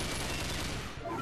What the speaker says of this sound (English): the rate of fire is just very fast for a machine gun